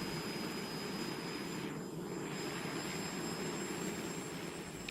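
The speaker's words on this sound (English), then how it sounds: "Percy heard the aeroplanes zooming overhead all day" A steady, distant jet aircraft roars overhead as a broad, continuous rumble that holds at an even level throughout, near an airfield.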